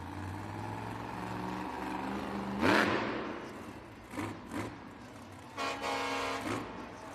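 Monster truck horn honking inside an arena at a Monster Jam event, with several loud blasts rising above a steady engine rumble and crowd din.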